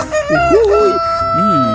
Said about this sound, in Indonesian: ini ada ayam berkokok.